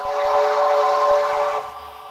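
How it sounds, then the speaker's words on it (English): A QJ steam locomotive whistle sounds in the Trainz railway simulator, one loud sustained chord-like blast of about a second and a half that cuts off abruptly, with no talking. "here's the whistle sound"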